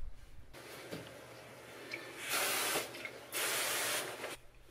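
Two long bursts of hissing spray from a pump sprayer applying diluted Simple Green cleaner to a floor, close by, separated by a short pause, with quieter background noise before and after.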